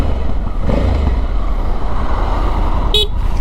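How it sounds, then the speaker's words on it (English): A Honda Africa Twin motorcycle horn gives one short, sharp toot near the end, cutting through steady engine and road-wind rumble while riding. "Oops, that's the horn."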